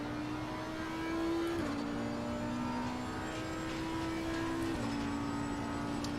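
A race car engine drones steadily through laps in a racing video game, holding a constant pitch with two quick gear shifts that drop the tone, alone without talk.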